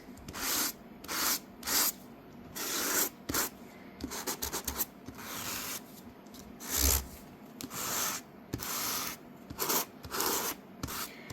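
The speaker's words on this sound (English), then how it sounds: "I have my sanding block handy" Repeated rough scraping strokes of a sanding block on paper in bursts, some quick and some longer, close and fairly loud, with brief pauses between.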